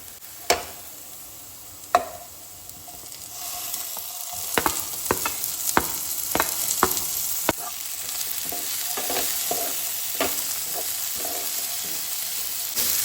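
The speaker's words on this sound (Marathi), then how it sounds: "आतां हितून हांव घालता टमाट" Onion and tomato sizzling in a pan for a Goan egg drop curry, a steady frying hiss broken by sharp clacks of a spoon stirring against the pan, close and continuous with no speech.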